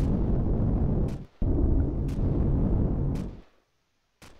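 Turret gunfire in the space-combat video game Empyrion, heavy booming shots with sharp cracks repeating about once a second, each followed by a rumbling decay, loud and close with a brief silence near the end.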